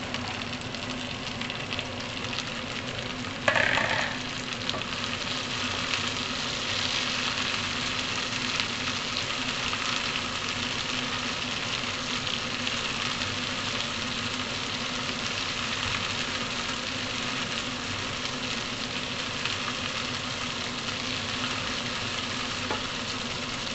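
Green beans sizzle in a pan with browned onions, a steady close hiss of frying that holds throughout, with one brief sharper burst early on as ingredients hit the hot oil.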